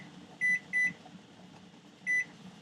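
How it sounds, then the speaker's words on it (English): A kitchen timer beeps as it is being set: two short, high electronic beeps close together, then a single beep after a pause, over a quiet room hum. "I'm putting that kitchen timer on for 10 minutes."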